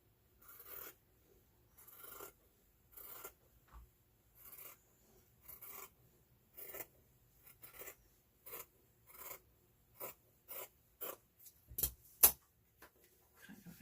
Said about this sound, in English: I'm just going to use my scissors to cut out my batting.